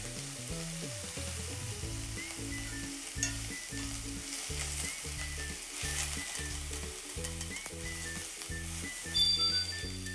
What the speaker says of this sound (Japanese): さあここににんにく入れてちょっとにんにく焦がしめに